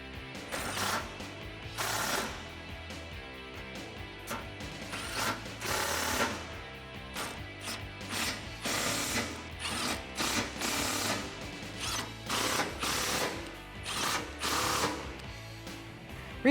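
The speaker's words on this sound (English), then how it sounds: "grab a 13mm socket and tighten these down" Ratchet with a 13mm socket tightening bolts on Go Rhino RB20 running boards of a Jeep Wrangler JL 4-door, a close run of quick metallic clicking bursts repeating steadily, with no talk.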